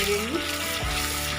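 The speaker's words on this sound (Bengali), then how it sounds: "একটু নেড়ে নিই।" Cashew-almond paste and spices frying for doi fish, stirred in a pan with a brief scrape and steady sizzle over a short, close moment.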